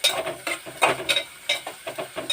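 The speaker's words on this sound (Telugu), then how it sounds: "దీన్ని బాగా వేయించుకుందాం." Onions and green chillies frying in oil, stirred with a utensil: soft sizzle under a steady rhythm of scraping and clinking strokes, close and fairly quiet, with no talk.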